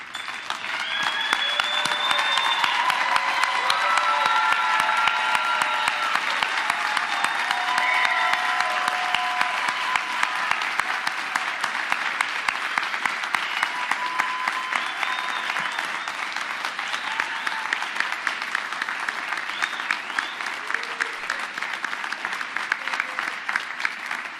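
Graduate convocation audience applauding standing graduates, a long, full and steady round of clapping from a large hall that stays strong for over twenty seconds and tapers slightly toward the end.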